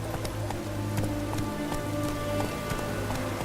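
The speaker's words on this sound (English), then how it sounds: "It's raining, of course it's going to be damp." Steady rain in The Witcher 3: Wild Hunt patters over a dense, damp background, with scattered drips and a faint rhythmic clopping of horse hooves underneath.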